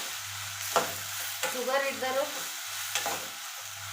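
Bitter gourd (karela) frying in oil, a soft steady sizzle with occasional stirring scrapes while someone talks over it.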